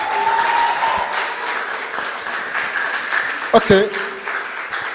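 Applause for a Vice Chancellor at a university convocation ceremony, a broad, continuous clapping from the audience that carries on under a few spoken words and a brief clatter near the end.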